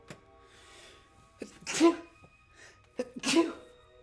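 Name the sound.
sneeze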